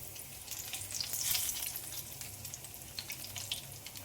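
Fennel, mustard seeds and curry leaves sputter in hot oil, a close, steady crackling sizzle with bright popping bursts that swell briefly and then settle.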